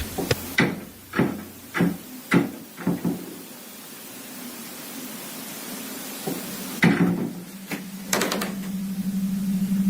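A wooden gun cabinet is knocked on with a series of sharp hollow raps, five or six in a quick uneven run, then a pause and a few more knocks and bumps against a low room hum.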